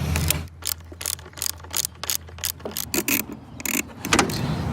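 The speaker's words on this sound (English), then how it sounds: "So start by removing that bolt from there." Close ratchet on a 2010-2015 Chevrolet Cruze backing out a corroded bolt, giving bursts of quick mechanical clicking separated by short pauses, with no talk.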